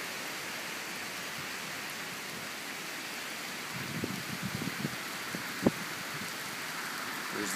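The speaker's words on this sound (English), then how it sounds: "Rain has really picked up here." Heavy rain pours steadily during Hurricane Sandy at Fort Meade, a dense, even hiss throughout with a few louder splashes and a sharp drip or tap near the end.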